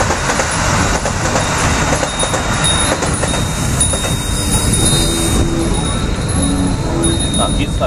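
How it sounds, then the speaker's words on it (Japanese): A local electric train from the Osaka direction rumbles past nearby in Kyoto in a steady, continuous roar, with faint metallic wheel squeal near the end. "はい、大阪の方から、普通電車がやってきました。"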